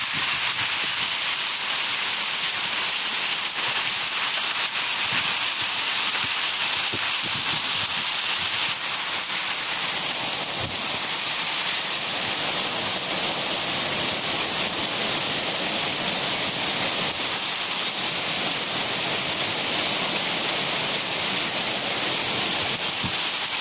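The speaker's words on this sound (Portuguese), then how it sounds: "Demorou, mas veio o granizo para Araranguá." Hailstorm in Araranguá, with hailstones pounding down steadily in a dense, continuous roar of hiss and patter that holds at the same loudness throughout, with no voices.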